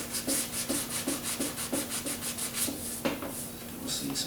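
Rhythmic back-and-forth hand sanding of primer on a Ford Flex bumper cover: steady, close scratchy rubbing strokes about twice a second, continuous and without talking.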